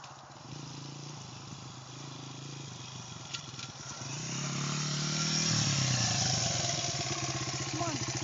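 A Honda motorcycle running in Montana, its engine idling at first and then revving up louder and higher as the rider works the clutch and tries to shift gears, close and steady.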